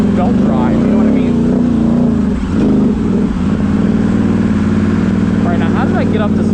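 Can-Am Renegade 1000 XMR ATV engine rumbling and revving while riding outdoors, a loud, close, steady drone with throttle swells, and someone talks over it.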